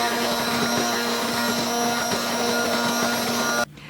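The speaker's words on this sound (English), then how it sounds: "you just take an immersion blender and blend everything" An immersion blender whirs through potato and leek soup, a loud steady motor whine with a constant hum and grinding texture that stops abruptly near the end, leaving quieter room noise.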